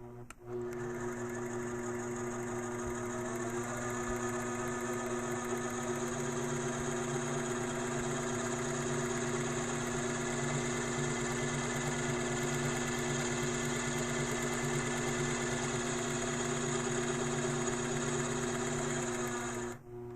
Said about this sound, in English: I'm going to do just a quick tension check by moving the fabric and sewing a little bit.